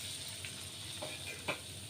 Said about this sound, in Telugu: ఆ నూనెలో మనం తరిగి పెట్టుకున్న దొండకాయ ముక్కలు వేసేసుకున్నాం